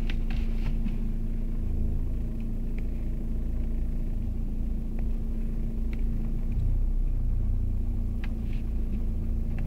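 A golf cart with a camera mounted on its front drives along, producing a steady low rumble and motor hum throughout, with occasional light knocks and no talk.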